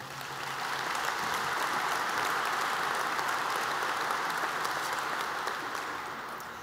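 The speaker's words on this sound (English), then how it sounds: "A round of applause for the administration." An audience claps for the administration at a Camden site event, a dense, steady round of applause that swells in and holds for several seconds before easing off.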